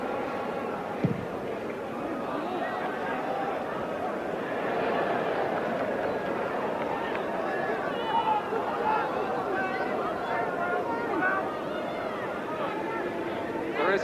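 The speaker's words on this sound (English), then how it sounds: "Welsh crowd in marvellous voice," A Welsh football crowd at a 1983 Wales versus Brazil friendly fills the stadium with steady, loud singing and cheering, a continuous roar of massed voices with no pauses throughout.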